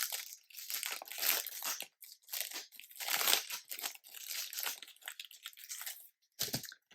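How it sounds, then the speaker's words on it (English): Close, crisp rustling and crinkling while wooden place card holders and cork are handled for wedding table numbers, coming in irregular bursts over several seconds with short pauses and no talking. "Sorry, rustling."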